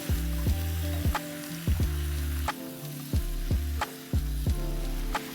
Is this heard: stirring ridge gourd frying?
yes